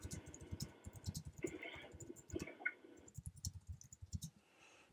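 Someone types a message on a computer keyboard, producing a quiet, uneven stream of soft key clicks in bursts with brief pauses, close and alone without talk.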